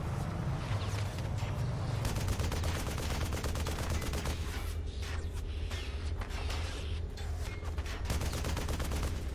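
Rapid automatic gunfire rattles continuously at a tank in the Frontlines: Fuel of War video game, dense loud bursts with mechanical clatter and a low engine rumble underneath, no talk.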